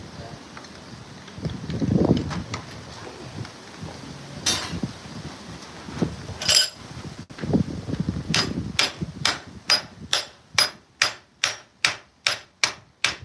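A blacksmith's hammer shapes a rivet head for a pair of tongs outdoors at a homestead show. Scattered taps and gusts of wind noise lead into a steady run of about a dozen sharp, ringing strikes close by.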